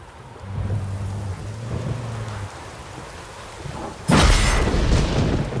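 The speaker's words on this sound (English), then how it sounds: "A storm, damn it." Rainstorm in The Witcher 3: steady rain with low rumbling thunder, then a sudden loud thunderclap near the end that crashes over the downpour; no talk.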